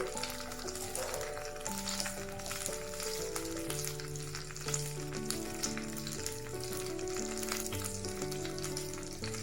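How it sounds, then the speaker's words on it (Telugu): Rose petals, a piece of cinnamon, cardamom pods and peppercorns dry roasting in a pan, a soft steady crackle under louder background music. "ఒక 10 మిరియాలు వేసి బాగా వేపుకోవాలి"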